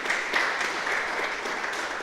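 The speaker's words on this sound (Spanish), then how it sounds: "Date un aplauso, que eres muy valiente." A church audience claps in a brief, dense burst of applause that carries evenly through the short moment.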